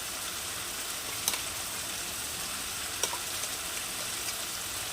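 Shrimp paste frying in a pan with onion and dried red chillies for a Bengali chingri bata dish, a steady close hiss broken by a couple of sharp stirring clicks.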